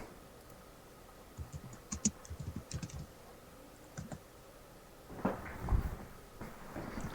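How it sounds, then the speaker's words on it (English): Quiet bursts of keyboard typing, soft clicking keystrokes in short runs with pauses, a few louder thumps near the end. "I hear you typing, Hatter."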